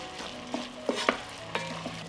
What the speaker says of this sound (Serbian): dodat ću paradajz i nastavit ću da pržim dok paprika i paradajz ne omekšaju